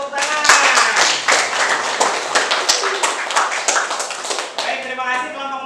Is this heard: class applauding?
yes